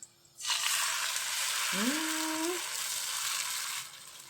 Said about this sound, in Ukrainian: Поки смажиться омлет